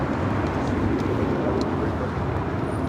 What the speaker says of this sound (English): 528 taking off to Atlanta.